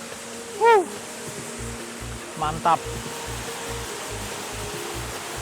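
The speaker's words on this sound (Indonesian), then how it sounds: "Menambah estetik dari air terjun Benang Kelambu ini" Steady broadband rushing of falling water from the Benang Kelambu waterfall fills the scene, with a few brief voices and a faint rhythmic thumping over it.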